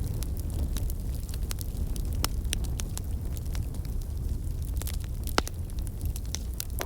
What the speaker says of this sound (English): I don't leave a fire like this unattended